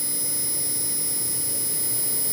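An air conditioner compressor runs with a steady close whine and hum and gradually speeds up, alone with no talk.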